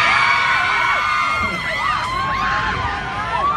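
An audience at a live concert-style fan event cheers, whoops and shouts, with layered excited voices and squeals rising and falling loudly throughout.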